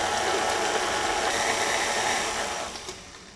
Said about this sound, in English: And you just want your mixer on a low speed.